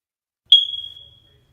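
A smoke detector alarm gives a single sharp, high-pitched electronic beep that rings out briefly and fades within about a second, heard alone against silence.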